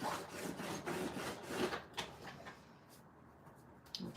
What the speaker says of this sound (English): I'm going to score it at 3/4 of an inch